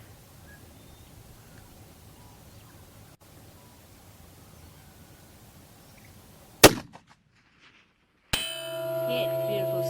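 A .300 WSM rifle bullet strikes a big, heavy steel target at long range: a single sharp, loud crack cuts through faint outdoor background noise, then near silence, then a different steady tonal noise.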